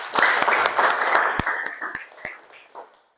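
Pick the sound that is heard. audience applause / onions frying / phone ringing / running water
audience applause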